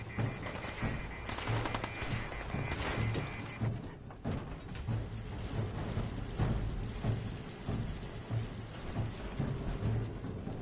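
Cannons and turrets fire in a video game battle, heavy booming blasts and rumbling explosions rolling continuously like a storm, loud and dense throughout with no speech.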